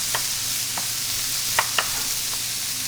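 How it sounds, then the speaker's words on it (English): Vegetables with red pepper chili flakes and ground round sizzle steadily in a pan while a utensil stirs through them, giving a few short scraping clicks over the constant frying hiss. "So I'm going to stir this up"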